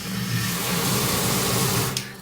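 Water gushes at strong pressure from a newly connected tap in a warehouse, a steady, loud rushing stream that continues unbroken throughout, with a brief higher splash near the end.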